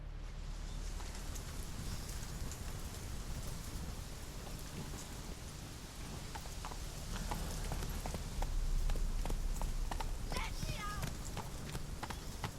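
Hoofbeats of Geralt's horse Roach galloping in The Witcher 3: Wild Hunt, a steady rapid clip-clop running under heavy rain and rolling thunder, with the storm noise filling the background throughout.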